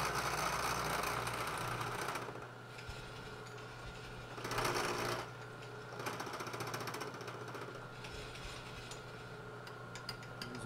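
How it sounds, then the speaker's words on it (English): A milling machine cuts a knurling tool mounting bracket, a steady mechanical whir and grinding hum that runs nonstop up close, with a brief louder surge partway through. "And go ahead and mill it."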